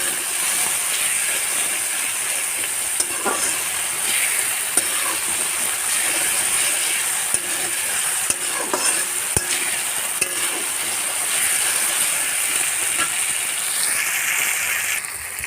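Tomatoes fry in a pan of fish oil for a coconut fish curry, a steady close sizzle and hiss broken by scattered scrapes and taps of a stirring spoon, with no voices.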